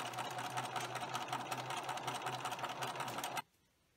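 A sewing machine stitches a fabric Halloween treat bag in a fast, steady mechanical whir with rapid needle ticks, running loud and close for about three and a half seconds before stopping abruptly into near silence.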